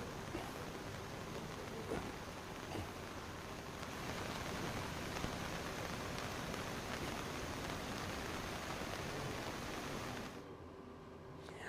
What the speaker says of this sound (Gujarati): ધસમસતો પાણીનો પ્રવાહ અત્યારે નદીમાં આપ જોઈ રહ્યા છો